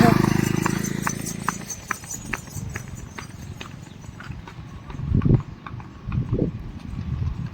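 Hooves clop in a steady rhythm as a mare draws nearer, with someone speaking over the footfalls near the end.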